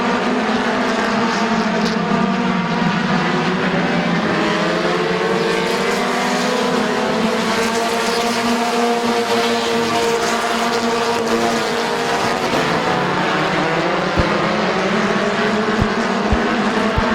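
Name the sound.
race cars racing at Midvale Speedway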